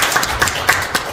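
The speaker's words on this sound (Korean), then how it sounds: "박수 한번 쳐드리죠." Audience at a district government final report meeting clapping briefly, a few distinct claps in a loose rhythm, fairly close and moderately loud, with no speech over them.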